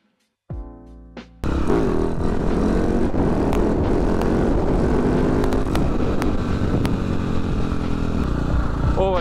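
Motorcycle revving loudly on a quiet dirt field road while held up on its rear wheel, a sharp blip followed by a sustained, strained engine roar with pitch wobbling throughout.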